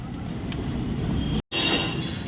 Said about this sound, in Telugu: పైన రైలు పోతుంది, గూడ్స్ రైలు.